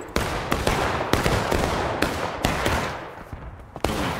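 Civil War reenactors at Bloody Lane fire muskets loaded with buck and ball, producing a ragged string of sharp, booming shots about every half second, some near and loud, others slightly farther off.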